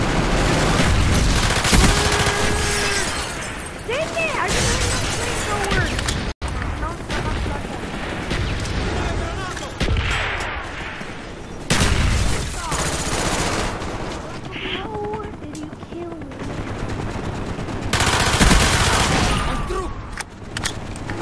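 Dense in-game gunfire and explosions from an artillery strike in Call of Duty Black Ops on the Nuketown map roll on continuously. Heavy booms and rapid automatic fire are loud and constant under overlapping game voices.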